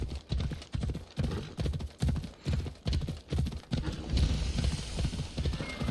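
Horse galloping in Assassin's Creed Odyssey, a steady, loud run of rhythmic hoofbeats close by, pounding in regular clusters throughout with no voices over it.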